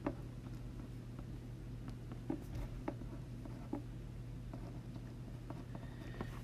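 Quiet scratching of a pencil writing on paper at a desk, with soft irregular strokes and taps over a low electrical hum, no voices.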